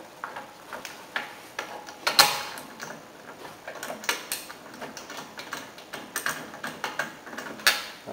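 Socket wrench ratcheting lug bolts onto the wheel of a 2009 VW Jetta TDI, a run of quiet, irregular mechanical clicks and ticks with a few sharper clacks, close by and without talk.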